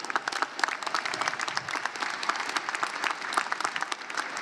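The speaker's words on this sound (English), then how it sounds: "let's give him another round of applause" A graduation ceremony audience applauds at a college commencement with sustained, fairly loud clapping and no talk.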